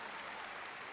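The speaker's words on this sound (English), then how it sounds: "We applaud you, Amber" A brief burst of dense clapping from a graduation ceremony audience at a high school, a uniform wash of applause lasting about a second.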